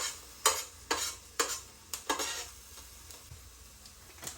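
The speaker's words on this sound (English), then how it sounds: "This juice is really beginning to evaporate and the mushrooms are starting to cook." Mushrooms cooking in a pot on a burner as their juice evaporates for green bean casserole: a soft background sizzle under several close, scraping stirs, with the stirring fading out partway through.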